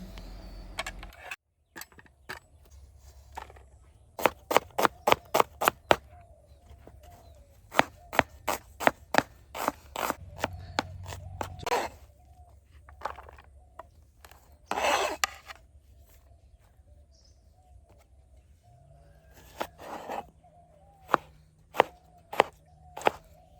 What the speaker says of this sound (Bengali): চলো সবার প্রথমে সবজি টবজি কেটে নিচ্ছি